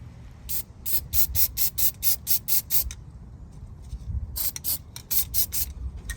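Rust reformer is sprayed from an aerosol can onto a 2018 Silverado 1500's suspension in short hissing bursts. Two quick runs of about eight sharp spurts each are split by a brief pause, close up.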